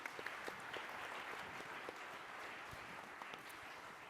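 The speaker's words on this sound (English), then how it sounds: "Can we please give our panellists a big round of applause?" A conference audience claps for its panellists with a soft, even patter of many hands. It sounds distant and fairly faint and holds steady for a few seconds.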